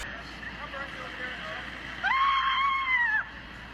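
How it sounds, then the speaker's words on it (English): Ken screaming in the Barbie movie while Barbie is slapped as they skate, a loud high shrill wail lasting about a second over background film sound. "Ken is the one you can hear screaming like a girl."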